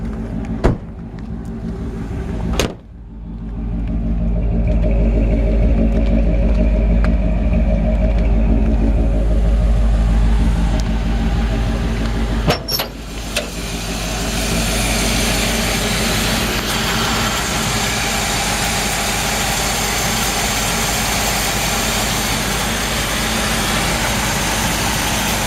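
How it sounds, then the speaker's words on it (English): A 1958 Chevrolet Biscayne engine runs steadily at close range, a continuous low rumbling idle after a couple of sharp clicks, with a brief knock partway through and no voices. "You can hear the engine runs great."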